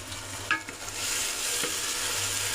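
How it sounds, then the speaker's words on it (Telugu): Tomatoes fry in a pan for prawn biryani, a steady broadband sizzle with a couple of brief stirring scrapes near the start, moderately close and with no talking. "టమాటాలు అయితే చక్కగా వేగిపోయాయి"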